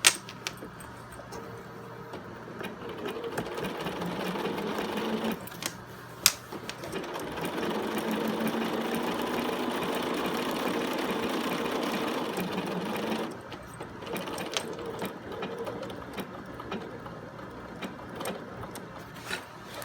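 Sewing machine stitching a back pocket onto denim blue jeans, running steadily at close range in long bursts with a short pause mid-way, then slower intermittent stitching at the end.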